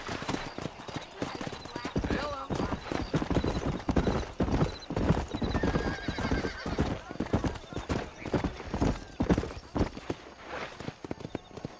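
Hooves of a ridden horse in a video game clip-clop at a steady trot, with a whinny mixed in and characters talking over the hoofbeats throughout.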